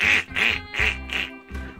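Video game duck quacking after being stepped on, a run of five loud, close quacks in quick, even succession with nothing else audible.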